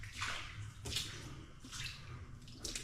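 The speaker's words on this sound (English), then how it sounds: "when you run the sink, it starts dripping everywhere" Water runs from a leaking sink tap and drips and splashes beneath it in uneven surges, a close, sloshing wash that swells and fades several times with no talking.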